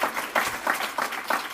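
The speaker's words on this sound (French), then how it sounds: "on peut l'applaudir bien fort" A smallish audience at a startup event claps at an even, rhythmic pace, the individual claps distinct and moderately loud.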